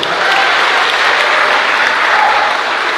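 Loud, dense applause from a church youth audience at a sermon, continuous steady clapping at full strength throughout the three seconds.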